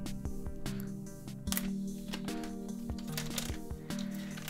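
The sealed packaging of an iPhone 8 Space Grey box is pulled open slowly, giving a close run of papery, crackling tears and rustles with a few sharper snaps. There is no talking.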